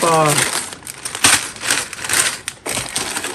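A plastic parts bag from a Pantasy Astro Boy building block kit crinkles and crunches in several loud, close bursts as it is handled, with a brief voice at the start.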